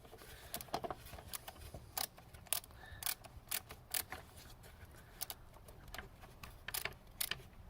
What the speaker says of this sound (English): I'm just going to screw it back in and replace the cover.